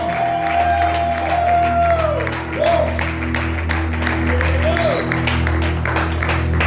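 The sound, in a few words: church congregation applause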